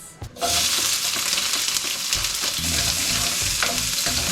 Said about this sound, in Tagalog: Gigisa na yung bawang sibuyas and kamatis